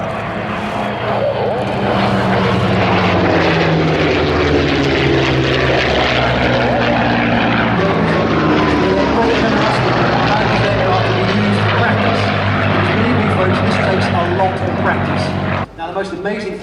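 A formation of World War II fighters, a Thunderbolt, Mustang, Spitfire and Buchon, roars past with loud, rich piston-engine and propeller drone that swells and shifts in pitch as they fly by, then drops off sharply near the end.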